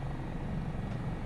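Dauphin helicopter in the MSFS 2024 flight simulator, its engine and rotor giving a steady, fairly quiet drone with a low throbbing hum that holds level throughout the brief moment.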